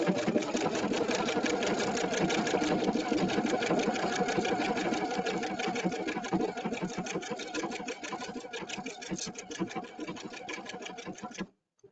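A Brother Epic 2 sewing and embroidery machine stitching pictogram stitches, with a fast, steady mechanical whirr and needle clatter running close and continuous before stopping near the end.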